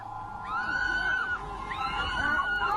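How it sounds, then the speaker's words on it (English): A person screams in a drawn-out, wavering, high-pitched cry, two long wails back to back that rise and fall over steady background noise. "The screaming noise is completely from a different video."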